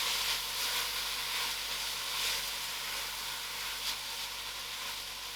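Soya mince frying in a pan with spices gives a steady, close sizzle and hiss, constant throughout with small crackling swells.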